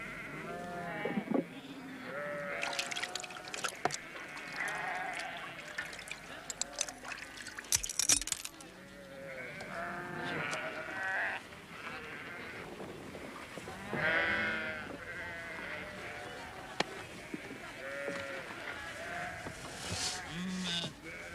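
Sheep bleat repeatedly in a farm pen, several animals calling near and far in overlapping cries over a low background with occasional clatter.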